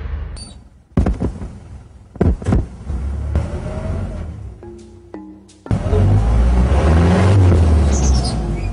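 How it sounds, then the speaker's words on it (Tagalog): A car revs hard, its wheel stuck and spinning in mud after a U-turn during an adventure trip in Marinduque; loud, near engine roar surges in bursts with sharp thumps, then settles into a sustained heavy rumble. "Pag U-turn ko, nasa putik po yung gulong ng kotse"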